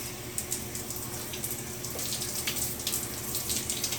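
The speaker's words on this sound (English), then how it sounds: "So I'm gonna turn on my shower." A home shower runs steadily with water spraying and splashing at close range, a continuous hiss with small splatter variations throughout and no talking.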